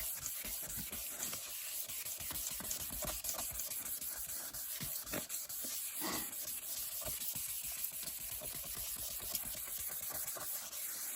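Wet sanding of a car rear light lens with 2500 grit paper, a steady close scratchy rubbing with repeated strokes, continuous and moderately quiet with no talk.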